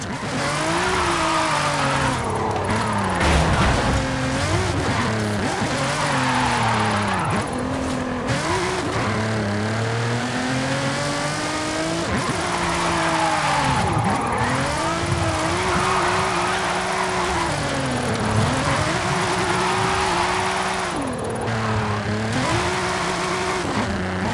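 A Nissan GT-R with an RB26DETT-type engine drifting in Forza Horizon 5, its engine revving hard and wailing up and down in repeated swells with tire squeal, loud and continuous throughout.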